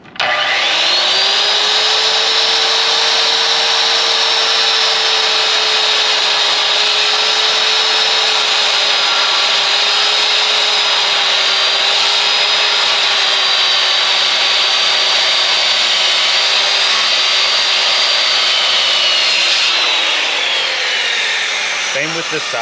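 A power saw cuts a half lap joint in timber in one long, slow pass, a loud, steady whining drone lasting about twenty seconds before it winds down.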